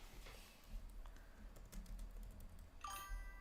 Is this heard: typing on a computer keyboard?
yes